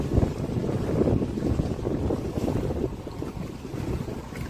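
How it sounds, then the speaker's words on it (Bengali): A speedboat races across the Alleppey backwaters, a steady rushing roar of hull slapping and splashing water mixed with heavy wind buffeting close to the microphone, with no voices. "আর তার মধ্যে ছপাছপ করে চলছে আমাদের স্পিড বোট"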